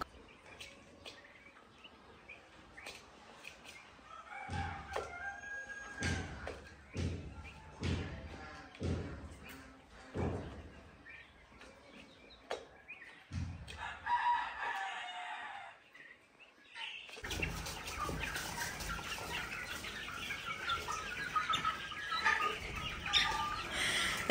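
Chickens and roosters on a farm cluck and crow nearby in scattered bursts, with a louder, steady broadband noise taking over near the end.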